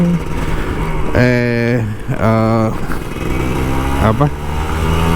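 A Kawasaki Ninja RR 150 two-stroke motorcycle, an older model used as a daily rider, is started with the choke set and then settles into a close, steady engine sound with two rising rev bursts and a short blip near the end.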